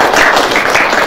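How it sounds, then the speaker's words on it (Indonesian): An audience at a community gathering bursts into applause, a dense, loud wash of many hands clapping close by, with no pause through the short stretch. "Tepuk tangan dong buat"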